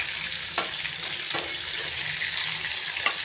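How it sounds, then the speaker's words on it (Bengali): Potatoes frying in hot oil after cauliflower, a steady close sizzle throughout with a couple of faint clinks from a utensil. "এখন আলুগুলোকে ভেজে নেব।"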